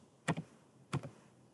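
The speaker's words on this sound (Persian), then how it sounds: "در این قسمت دوستان شما در این قسمت باید تایپ بکنین" Two brief, quiet clusters of key taps on a laptop keyboard, each a quick double click spaced well apart, close by against a faint hum.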